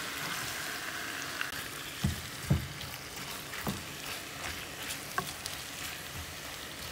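Turmeric and cumin powder frying in a pan for yogurt chicken curry, a soft, low sizzle broken by a few light scraping stirs and small knocks, no talking.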